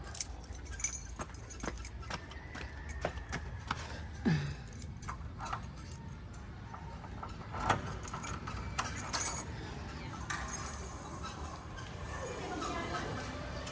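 Keys jangle and clink close by, with scattered small metallic taps and handling noises over a low background rumble for the length of the clip, with no clear talking.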